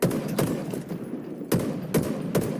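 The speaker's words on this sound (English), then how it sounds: "Hail of gunfire." Bursts of rapid gunfire crackle in Halo Infinite, sharp volleys at steady intervals over a dense, continuous battle din.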